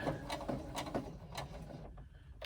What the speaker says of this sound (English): keep sewing till you get to the end of that side of the welt. Back stitch a bit to hold it